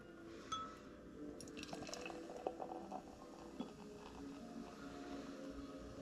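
Hazy IPA (Gravel Donuts from Outerbelt Brewing, 6.5%) is poured a bit roughly from a can into a three-head brewing glass, with close, foamy gurgling, splashing and dripping and no talking.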